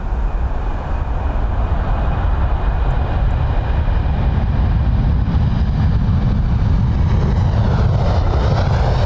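A jet aircraft at Dublin Airport, its loud, continuous engine roar filling the air and swelling slightly as it moves along near the runway.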